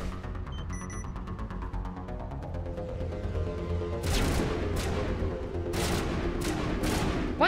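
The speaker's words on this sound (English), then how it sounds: "Is she shooting at me?" Rapid bursts of gunfire from the video game Mass Effect, a steady hum with faint clicks at first, then sharp repeated shots from about four seconds on, fairly loud and with no talking.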